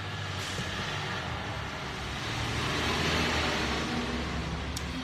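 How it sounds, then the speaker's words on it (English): Cars and trucks pass on the street outside a home garage, heard from indoors as a steady low rumble of road traffic that swells slightly midway, with no talking. "You can hear the cars outside"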